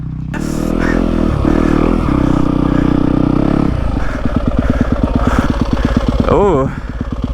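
A Yamaha WR250F dirt bike stuck in a big sandpit revs hard and close, first a steady loud roar, then a choppy, pulsing bog as the engine labours, with voices shouting over it.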